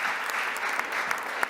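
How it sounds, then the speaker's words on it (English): Applause from the audience at a city council proclamations meeting, an even, moderate patter of clapping with a few sharper claps standing out near the end. "clap for her"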